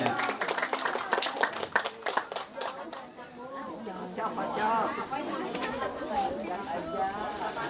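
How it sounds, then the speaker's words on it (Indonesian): An audience at a community aspiration forum claps in a quick, uneven burst of hands at the start, which fades into murmuring chatter and overlapping voices. "Oh, tepuk tangannya mana? Tepuk tangan."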